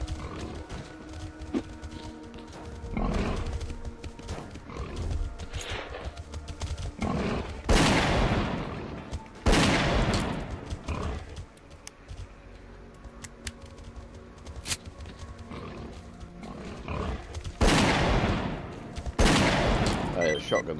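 Loud shotgun blasts in the video game Stalker Clear Sky, several heavy booming shots spaced a few seconds apart amid a noisy firefight with other gunfire and growling creatures, a voice talking briefly between shots.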